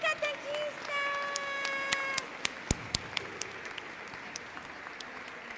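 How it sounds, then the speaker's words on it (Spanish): Applause and cheering break out for the catechists at a children's Mass, with a whistle-like tone early and scattered claps continuing at a steady moderate level. "Vamos a darle un aplauso a nuestras catequistas."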